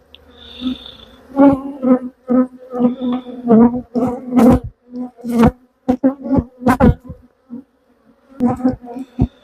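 Honey bees buzzing near and loud as they are shaken off frames out of hive supers, the drone rising and falling in bursts with sharp thuds and knocks of the shaking between.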